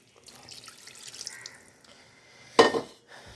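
Water being poured into a pan of paneer curry: a short trickling splash, then a louder gush near the end, fairly close and quiet overall.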